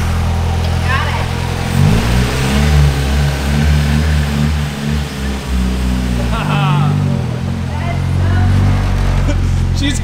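A rear-wheel-drive Honda Civic running on ethanol fuel, with a low-hanging flex pipe, revs up and pulls away. Its loud, close engine note climbs and dips through several throttle surges, and voices talk over it.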